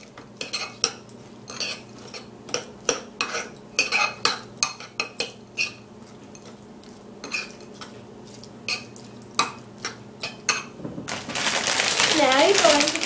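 A utensil clinks and scrapes repeatedly against a bowl while a cannoli filling is mixed, sharp irregular taps close by, ending in a louder rush of rustling noise.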